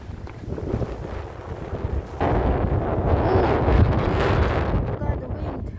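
Strong gusting wind roars through a forest of wild blueberries, loud and steady and buffeting the microphone, swelling midway and staying heavy, with people talking briefly underneath.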